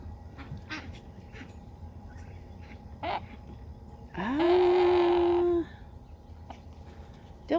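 A single drawn-out, nasal call rises and holds for about a second and a half, fitting a duck's quack, amid scattered farmyard bird sounds among turkeys, geese and chickens.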